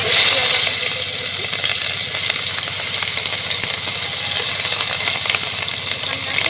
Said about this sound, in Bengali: এবারে এই তেলের মধ্যে আমি দিয়ে দেব কালো জিরে আর দিয়ে দেবো পেঁয়াজ বাটা